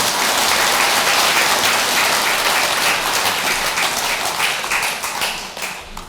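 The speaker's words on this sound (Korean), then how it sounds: "박수 한번 더 치세요." An audience at a Buddhist dharma assembly bursts into sustained clapping, dense and loud, which holds steady and then begins to thin toward the end.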